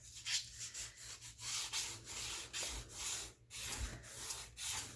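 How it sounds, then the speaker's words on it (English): Paper being folded and creased by hand on a craft mat for a folio journal, quiet rhythmic rubbing and sliding strokes repeating close by, with no talk. "I'm just going to measure, excuse me, an inch in and just fold it."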